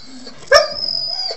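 A dog in an animal shelter gives one sharp bark followed by a sustained whining, high-pitched yelp that trails off, close and clear with no talking.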